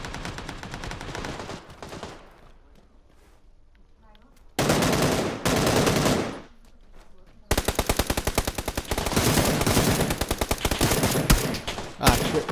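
PUBG gunfire on the Sanhok map: bursts of rapid automatic fire with brief gaps between them, loud and close, followed by a long sustained volley, with voices briefly audible.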